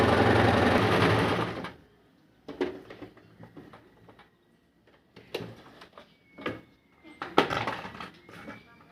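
A sewing machine stitches all the way around a salwar belt, running loud and steady for under two seconds before stopping, followed by scattered clicks and handling noises close by.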